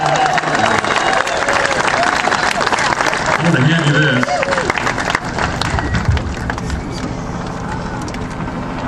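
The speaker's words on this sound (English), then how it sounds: "How about a round of applause for all the state police who are here in Pittsboro?" A crowd at a ceremony day for a racing driver in Pittsboro applauding the state police, loud sustained clapping and some cheering that carries on under someone speaking nearby, then gradually thins out.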